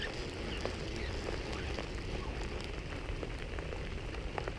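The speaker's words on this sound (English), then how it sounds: "Rainy day." Steady rain patters across a water surface, a dense, even hiss of drops with occasional sharper plinks, close and unbroken.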